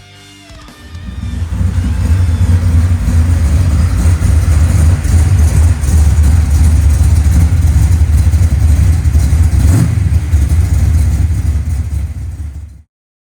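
A Chevrolet Malibu G-body car, fitted with a Moser 9-inch rear axle, starts up and runs loud and close, holding a steady, throaty engine drone with slight revving for about eleven seconds before cutting off abruptly.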